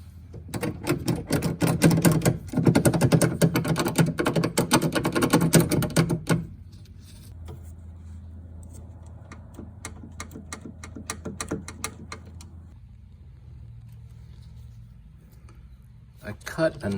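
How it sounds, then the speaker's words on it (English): Rattling from a loose interior part in a Citroën C3, a busy clattering buzz for the first six seconds, then quieter intermittent rattles with someone talking over them. "This is rattling right here."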